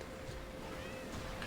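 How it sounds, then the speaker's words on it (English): A faint cat meow comes from a video game, mixed into steady background game sound. "I hear a cat."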